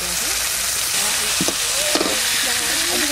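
Onion frying in hot mustard oil with bay leaf and cumin, a loud, dense sizzle that holds steady from start to end, with faint voice-like tones beneath it.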